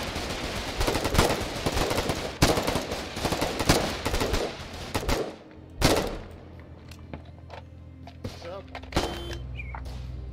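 Bursts of automatic machine gun fire in the war game Foxhole, sharp repeated volleys with scattered single shots, loud and close, fading into quieter sporadic pops and distant rumble.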